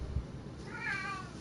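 A cat's meow rises near the end, a short tonal call over low background noise in the middle of a SoulCalibur VI play session.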